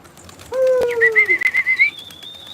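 Pigeons on a rooftop give a short run of clear, close calls and coos, the notes rising and sliding. A faint flutter of wings comes through at the edges of the calls.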